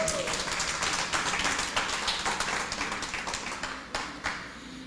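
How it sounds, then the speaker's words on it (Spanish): A church congregation claps together in a steady, dense burst of applause that fills the room, with the clatter tapering off near the end. "Denle un aplauso al Señor, por favor."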